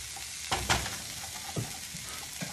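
Vegetables sizzle softly in hot ghee in a pan for veggie fried rice, with a few scraping pushes of a utensil as they are moved aside, the frying hiss steady and fairly quiet beneath.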